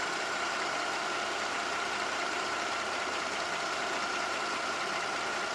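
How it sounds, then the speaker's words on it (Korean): A used fourth-generation Mercedes-Benz E300 Avantgarde with about 70,000 km idles while recorded up close, giving a steady, even hum that carries on unchanged with no talking. "가장 중요한 부분 이 엔진 소리부터 제가 가까이서 들려드리도록 하겠습니다"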